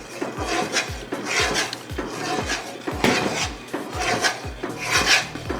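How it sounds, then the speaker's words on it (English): Stone ground corn grits stirred in a pot make a rhythmic scraping, rasping sound, repeating roughly twice a second with soft knocks against the pot, close and steady. "We're continually stirring through the whole process."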